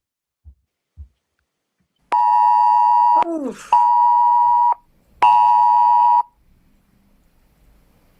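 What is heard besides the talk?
UK government emergency alert tone on a mobile phone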